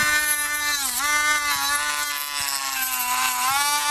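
A Dremel rotary tool cutting into a plastic Nerf Nite Finder blaster part outdoors, a loud continuous high whine that dips in pitch as the bit bites, with faint ticks underneath.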